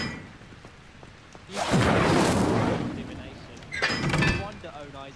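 A fire spell cast in the Hogwarts Legacy video game, a loud roaring whoosh and burst that swells and fades, then a second shorter flaring burst, with game ambience between.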